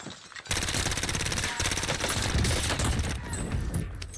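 Rapid bursts of CX-9 submachine gun fire in a video game, a fast-cycling stream of shots starting abruptly and running almost continuously, loud and close, with no voices over it.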